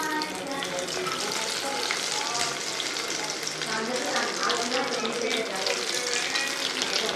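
Soybean chunks fry in oil in a kadhai with a dense, even sizzle throughout and faint stirring beneath it.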